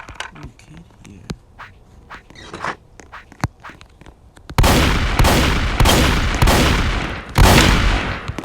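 A combat shotgun fires in a zone wars video game as a series of loud, heavy blasts at uneven intervals, following quieter clicks and game sounds.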